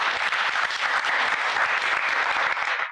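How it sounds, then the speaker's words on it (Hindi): A studio audience breaks into loud, continuous applause, many hands clapping densely and evenly before cutting off abruptly at the end. "जोरदार तालियां इनके लिए"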